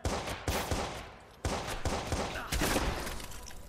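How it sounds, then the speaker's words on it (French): Gunfire in the video game Watch Dogs: loud repeated bursts of shots in quick clusters, close and sharp, with echoing tails between volleys and no talk. "Il y a des coups de feu!"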